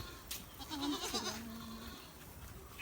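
A single goat bleats nearby, a wavering drawn-out cry over a low background hum, with no talking.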